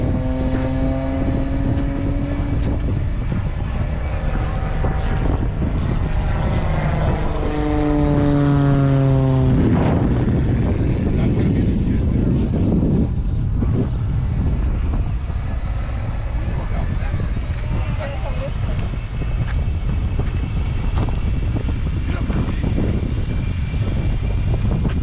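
A stunt plane's propeller engine roars past at the Stuart Airshow, its pitch sweeping down as it flies by, loud and steady for the whole stretch, with a crowd and announcer's voice underneath.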